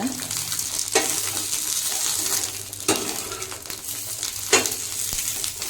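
Capsicum frying on a low flame for a dry palya, a steady close sizzle with a few sharp stirring scrapes and clinks at intervals.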